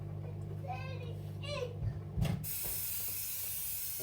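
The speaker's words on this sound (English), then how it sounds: "go ahead and spray some of this in the pan." Cooking oil spray hissing from a can into a pan in a home kitchen, a short burst after a voice, then a steady hiss continuing to the end.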